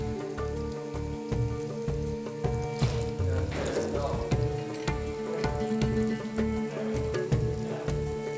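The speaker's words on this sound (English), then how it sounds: "We're gonna add slowly the diced eggplants to the hot oil." Continuous crackling and sizzling of diced eggplant frying in hot oil, with occasional utensil clinks and a voice speaking over it.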